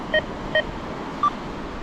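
Metal detectors set identically sweep over a small gold ring buried at the beach, sounding three short, clear electronic beeps close by: two evenly spaced, then a single higher tone after a pause, over faint background hiss.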